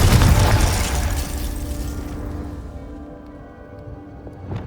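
A Confringo fire spell bursts in Hogwarts Legacy, a loud booming explosion that opens strong and rumbling, then decays over several seconds into a fading tail, with a small pop near the end.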